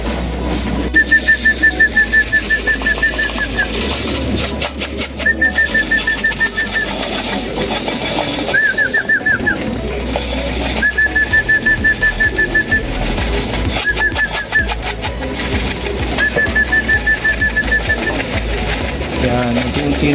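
Newly settled racing pigeons coo outdoors during stick-trap training, with a series of short repeated calls spaced across a constant noisy outdoor background.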